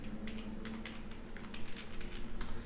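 Keystrokes on a computer keyboard as a folder name is typed, a short run of light clicks spread over a few seconds, fairly close against a steady low background hum, with no voices.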